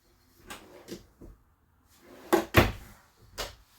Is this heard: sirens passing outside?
no